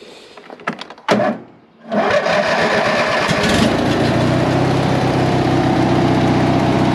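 A Yard Machines lawn mower, a free machine being revived, starts with a few pulls and sputters, catches, and flares into a loud, steady close-up engine drone that holds to the end.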